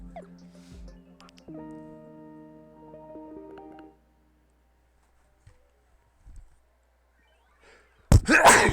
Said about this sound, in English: I tried to find the mute button, but I couldn't before I sneezed